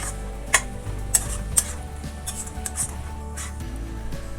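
A spoon stirs fried onion into fish biryani masala in a pan for a Kerala-style fish biryani, with a low sizzle underneath and a few sharp clinks and scrapes against the pan near the start.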